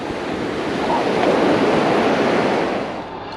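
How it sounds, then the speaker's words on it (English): Heavy surf rolls in on Governor Beach in St Barts, a continuous roaring wash of breaking waves that swells louder midway and eases off, mixed with wind buffeting the microphone. "Just the surf coming in on the shores about knocking you off your feet."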